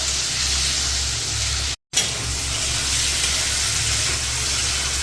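Spices frying with chunks of ridge gourd and potato in a pan, a steady, close broadband sizzle that runs continuously apart from a brief cut-out, with no voices.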